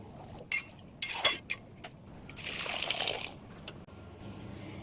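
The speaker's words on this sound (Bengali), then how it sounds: "একটু জল দিয়ে দেবো।" Water is poured into a pot of dal cooking with snake gourd, salt and turmeric: a few light clinks of utensils first, then a steady splashing pour lasting about a second before it stops, close and moderately loud.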